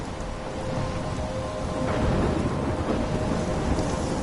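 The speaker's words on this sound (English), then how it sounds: "I'm trapped in a storm?" Thunderstorm in the Life is Strange video game: steady heavy rain with a low rolling rumble of thunder swelling midway, loud and continuous with no voices.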